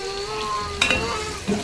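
Tomato and ginger frying in oil, a close, continuous sizzle with a sharp burst of spatter partway through and a soft clink near the end.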